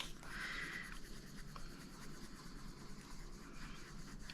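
Tiny coloured pencils scratching steadily across paper as an adult colouring page is filled in, a faint, close, continuous scratchy rasp with no talking.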